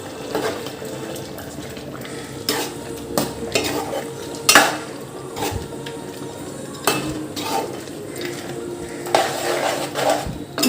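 A spoon scrapes and clinks against a pan while chicken gongura masala is stirred, irregular metallic knocks and scraping strokes over a faint sizzle, with no talking.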